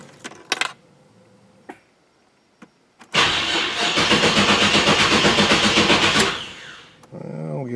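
A car engine with its battery on a charger: light clicks and clunks, then a long rhythmic starter crank of about three seconds that dies away, followed by a lower rumble at the end.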